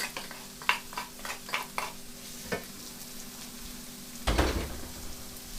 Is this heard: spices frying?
yes